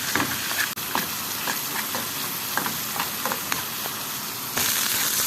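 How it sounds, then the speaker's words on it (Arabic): Garlic sizzles in ghee in a pan as the base for a soup, a steady, close frying hiss with soft scrapes and taps of stirring, growing slightly louder near the end, with no talking. "هبتدي احمر الثوم كده، وهنزل بالكزبره لما تاخد لون"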